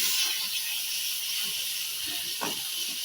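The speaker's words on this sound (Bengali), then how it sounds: "এভাবে আস্তে আস্তে করে আমরা নাড়িয়ে চাড়িয়ে ভেজে ভেজে নেব" Pointed gourd peels sizzle in a hot pan with a steady bright hiss, occasional stirring clinks and scrapes breaking through close by.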